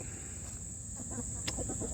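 Hens cluck softly and intermittently near the end, over a steady high electrical whine and low background rumble.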